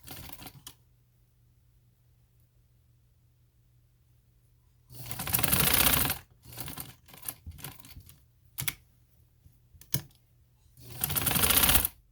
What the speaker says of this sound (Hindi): अब मैं इसकी सिलाई लगाने लगी ऊपर